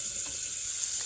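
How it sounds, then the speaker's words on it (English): Salted butter melts in a saucepan on the stove and gives off a soft, steady hiss and sizzle with no pauses and no talking. "While the butter is melting"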